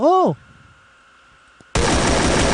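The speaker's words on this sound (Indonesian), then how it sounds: "Suara tembakan" In the video game Free Fire, a short rising-falling tone gives way to a low hum, then an abrupt burst of dense, loud gunfire that continues steadily to the end.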